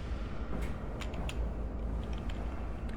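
A locked door is tried in Amnesia: A Machine for Pigs, giving a few faint creaks and mechanical rattles of the handle against a low ambient hum, with no one speaking.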